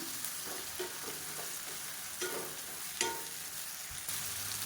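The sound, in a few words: roasting boiled raw banana pieces in oil in a pan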